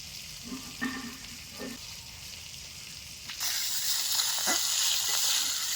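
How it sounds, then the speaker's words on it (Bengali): Small freshwater fish (pona, bata and taki) frying in hot oil in a home kitchen. A low sizzle with a few soft clatters swells at the midpoint into a loud, steady, close hiss. "মাছটা আমার ভাজা হয়ে গেছে"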